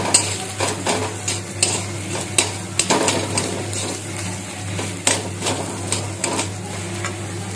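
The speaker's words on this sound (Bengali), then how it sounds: "কিছুটা পরিমাণ জিরে গুঁড়ো একটু ধনে গুঁড়ো আর লঙ্কা গুঁড়ো এখন এটাকে আমি একটু মিশিয়ে নেব" Cumin, coriander and chili powder stirred in a hot pan while cooking a Bengali potato papad curry: repeated scraping, tapping strokes of a utensil against the metal over a faint sizzle and a steady low hum.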